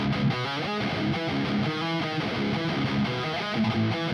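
Heavily distorted electric guitar plays a metalcore riff built on a 5-7-8 pattern, mixing tight palm-muted chugs with quick trilled notes in a steady, loud rhythm, with no voices.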